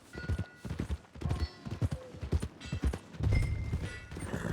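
Horse hooves clip-clopping in Red Dead, an uneven run of close thuds at a walking pace, fairly quiet, with a low rumble near the end.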